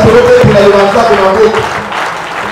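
A church congregation at an evangelistic campaign meeting bursts into loud, close applause and acclaim, a dense burst of clapping mixed with voices that fades slightly toward the end.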